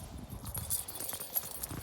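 A horse's hooves clip-clop close by in a quick, uneven walking rhythm over a low rumbling background.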